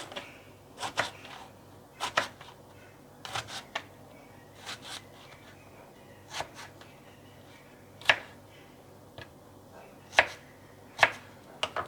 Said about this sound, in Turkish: Bir parmak kalınlığından biraz daha ince doğruyoruz